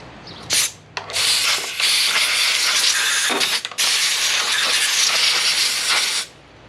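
An aerosol can of penetrating oil sprays onto a large nut on a John Deere JS63C push mower with a Briggs & Stratton engine. It makes three loud, close hissing bursts, the last two long and steady.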